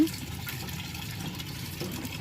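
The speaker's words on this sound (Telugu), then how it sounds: "నీళ్ళు వేయాలిగా మనం బూడిదేసిన తర్వాత" Water pours steadily onto a potted jasmine plant freshly dressed with ash, a soft continuous splashing and gurgling close by.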